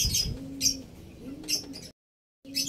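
Racing pigeon cooing nearby in short low throaty phrases, a few soft coos with brief higher chirps in between and a short gap of silence near the end.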